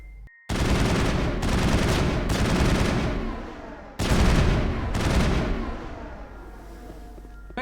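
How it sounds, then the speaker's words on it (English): Sustained gunfire in the Mass Effect video game as the player shoots back out, two long bursts of dense, loud shots with brief gaps, a sharp cut before each burst. "Now I've got to shoot my way back out."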